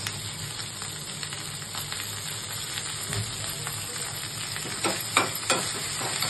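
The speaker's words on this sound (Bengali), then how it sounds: "ফোড়নটা ভাজা ভাজা হয়ে আসছে" Curry leaves and a tempering of spices sizzle in a pan over a low gas flame while being stirred, a steady soft crackle broken by scraping spoon strokes and a few sharper pops near the end.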